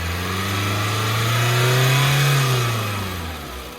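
A car engine revs up loudly, the pitch climbing and holding before sliding back down toward idle, close by with no voices.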